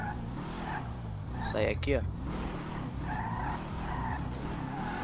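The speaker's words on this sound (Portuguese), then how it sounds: "Esse carro aqui não dá pra não acelerar" In the GTA V video game, a BMW car revs and skids with a brief squeal of tires over a steady engine drone, while someone talks over the gameplay.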